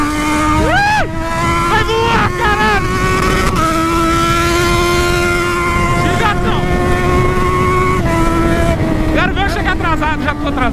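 Motorcycle engine on a street ride, revving loudly through the exhaust with a steady drone and sharp rising bursts as the throttle opens, alongside wind noise and someone talking over it.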